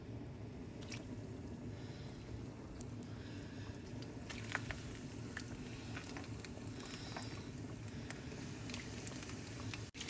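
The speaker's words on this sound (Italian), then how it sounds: "Mettiamo olio in padella e andiamo a friggere." Rice burgers sizzling in hot oil in a pan, a steady dense crackle and hiss running throughout with scattered small pops, close and even in level.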